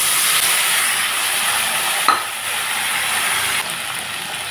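Boiled chickpeas and potatoes fry in mustard oil with cumin seeds in a pan, giving off a steady, close hiss of sizzling. A brief scrape of stirring breaks in about midway, and nobody speaks.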